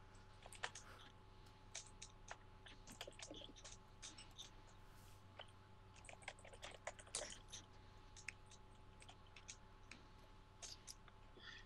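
Rapid clicking of a loud mechanical keyboard as someone types in irregular bursts, fairly close and crisp over a low steady hum, with no talk.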